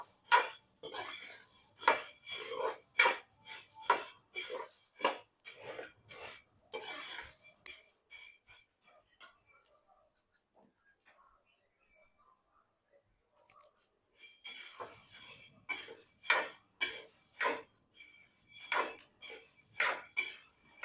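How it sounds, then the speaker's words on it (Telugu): Coriander seeds dry roasting in a pan as a spoon scrapes and rattles them in quick, clattering bursts, close by, broken by a quiet pause midway before stirring resumes. "ధనియాల్ని ఇలా వేపుకోవాలండి"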